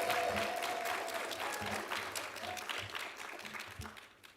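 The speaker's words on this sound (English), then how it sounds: "Let's give our graduates one more round of applause." Graduates at a DrPH commencement and hooding ceremony receive applause that begins full and gradually tapers off, scattered claps trailing at the end, with faint voices mixed in.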